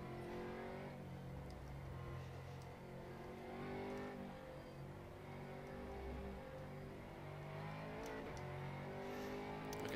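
A GT3 race car's engine in rFactor 2 at Spa drones steadily with rising and falling revs, joined by a second car's engine close behind.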